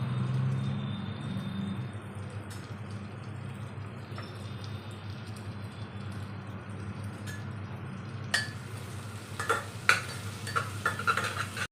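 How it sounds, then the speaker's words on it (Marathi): Mixed vegetables with tomatoes and ginger garlic paste being stirred in a pan, a steady low sizzling bed, then a burst of scraping spoon-on-metal strokes near the end, close by. "सगळं छान मस्त असं मिक्स करून शिजून घ्यायचं"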